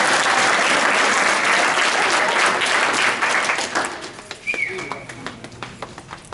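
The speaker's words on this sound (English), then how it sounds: "let's give a round of applause for all." An audience at a poetry recitation competition applauds, loud dense clapping that tapers off into scattered claps.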